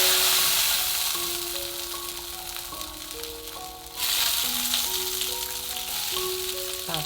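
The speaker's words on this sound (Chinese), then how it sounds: "锅热，来2勺红葱酥油，下入蒜瓣煸香。" Garlic cloves fry in shallot oil in a hot wok, giving a loud, steady crackling sizzle that swells briefly partway through, with soft background music underneath.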